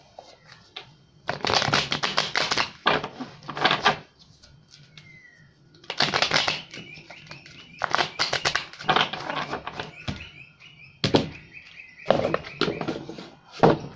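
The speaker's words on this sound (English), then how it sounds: "I'm going to pull 4 chakra cards" Chakra oracle cards being shuffled by hand in repeated loud riffling bursts, each lasting about a second, separated by brief pauses, close up with no talking.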